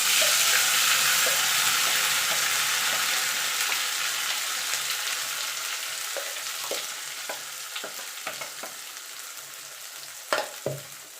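Ground bottle gourd leaf paste frying in hot mustard oil, a loud dense sizzle that slowly fades, with a few sharp stirring knocks and scrapes near the end, no voices.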